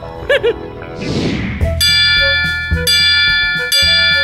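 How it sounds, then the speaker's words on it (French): A steam train's bell rings loud and close, sustained metallic clangs repeating at a steady pace after a brief whoosh, with no talking over it. "Cette cloche était très bruyante. Elle provenait de ce train à vapeur."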